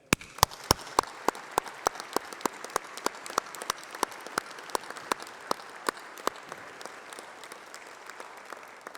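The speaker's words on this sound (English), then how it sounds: "let's have a round of applause for all those people, your family, your friends and your tutors who've supported you" A few nearby hands clap sharply and steadily at a university graduation ceremony, standing out over a softer bed of wider audience applause that thins toward the end.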